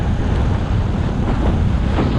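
Steady wind roars across an open Scottish roadside near Crieff on a Honda C90 camping trip, a continuous loud rushing and buffeting that fills the whole stretch without a break.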